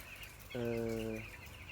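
Broiler chickens in a bamboo poultry house give a single short, nasal cluck over a low, steady barn hum, fairly close and otherwise quiet.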